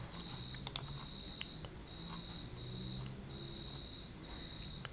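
Faint, sparse computer keyboard keystrokes in a quiet room, a few isolated clicks over a steady background hum with a thin high-pitched tone recurring throughout.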